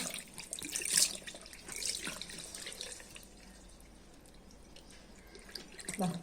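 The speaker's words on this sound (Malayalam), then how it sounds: "ഇതൊന്ന് വെറുതെ വെള്ളം വെച്ചിട്ട് കഴുകി കാണിച്ചു തരാമേ" Water runs and splashes close by while a coconut shell is rinsed, irregular swishes louder at the start and end, quieter in the middle.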